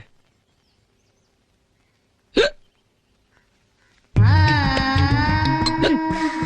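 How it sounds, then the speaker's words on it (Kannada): A single sharp hiccup sounds after a quiet stretch, followed by loud, overlapping voices and clatter. "ಬಿಕ್ಕಳಿಕೆ."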